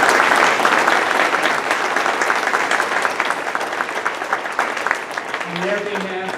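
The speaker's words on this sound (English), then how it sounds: "Let's give them a round of applause." Audience applause at a gathering honouring a group of heroes, a dense sustained clapping from a crowd that carries steadily through the whole stretch, loud and close, with a brief voice emerging near the end.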